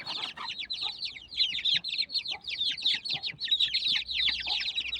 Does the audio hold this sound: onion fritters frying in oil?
no